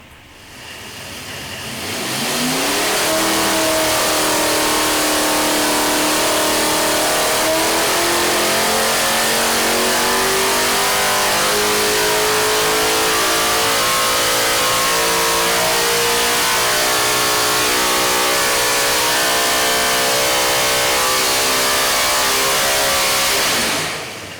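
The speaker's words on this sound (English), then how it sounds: "just to listen to a V8 that an average guy can afford to purchase and race make a pull" A loud V8 dirt modified race engine for oval track racing revs up hard and holds a sustained high-rpm roar, pitch climbing steadily, close and continuous for most of the clip.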